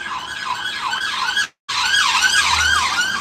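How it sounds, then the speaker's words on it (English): An ambulance siren wails up and down in loud, close, repeated sweeps, briefly cutting out halfway before resuming, with no voices. "Ambulance."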